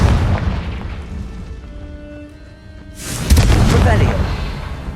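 A Confringo fire spell blast in the game Hogwarts Legacy booms loudly about three seconds in, a heavy burst that fades out slowly, after a rumbling stretch of game sound.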